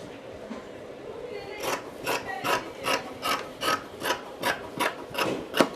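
Scissors cut through blouse fabric in a run of about ten evenly spaced, crisp snips, close and clear, after a quiet start.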